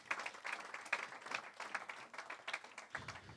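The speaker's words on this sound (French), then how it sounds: "Sous vos applaudissements." Audience applause at a tourism economy round-table in Chamonix, a moderate burst of many hands clapping in a conference room that thins slightly near the end.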